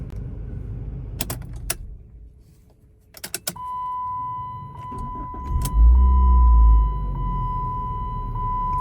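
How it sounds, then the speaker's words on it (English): A Chrysler PT Cruiser engine cranks and catches, settling into a steady idle with a high whine, preceded by clicks and a jingle of keys. "car starts fine"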